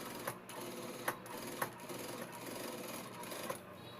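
Sewing machine stitching a Punjabi dress, a faint continuous mechanical whir with small ticking accents, heard close and alone.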